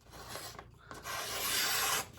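A sharpened fixed-blade knife shaves curls from a piece of wood in a quiet close-up, giving scraping, rasping strokes that build into one longer steady rub.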